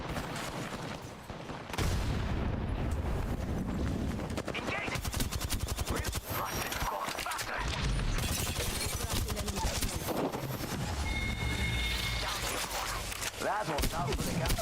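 Apex Legends gameplay fills with dense, rapid gunfire bursts and heavy blasts, including a thrown grenade, loud and nearly continuous, with a short quieter stretch near the start.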